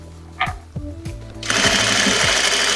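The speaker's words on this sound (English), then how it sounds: "I am sewing at a longer sewing length, stitch length, just in case." A sewing machine stitches denim fabric at a longer stitch length, first a few separate thumps, then a steady fast whirring run of stitches, close and fairly loud.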